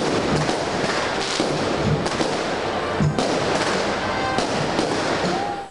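Fireworks set off for the opening of the White Night festival in Alexandroupoli, a steady loud barrage of crackling bursts and booms with a few sharper pops, one near the end, over a continuous outdoor crowd roar.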